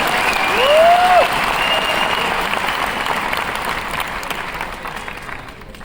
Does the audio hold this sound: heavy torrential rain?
no